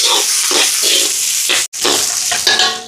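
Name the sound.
onions with curry leaves and fenugreek sautéing in a pan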